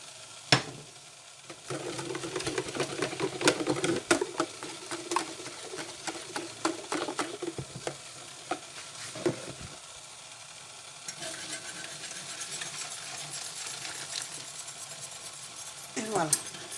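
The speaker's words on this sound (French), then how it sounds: "Donc on verse, on va bien battre." Pastry cream whisked in a pan over the heat: steady, busy scraping and clinking of a whisk against the pan, loud and close, with brief louder clatters and a calmer stretch toward the end.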